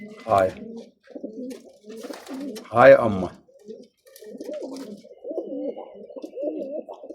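Pigeons coo in repeated soft, throaty bursts close by, mixed with someone talking over them in a quiet setting.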